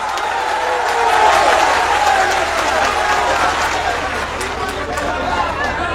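A crowd bursts into sustained applause, a dense wash of clapping mixed with murmuring voices that holds steady at a loud level for the whole stretch.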